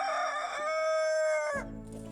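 A rooster crows loudly and close by, one long harmonic call that trails off, followed by low clucking from nearby hens.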